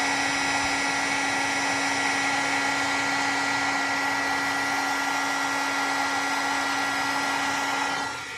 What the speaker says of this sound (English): I should have let my heat tool warm up a little bit.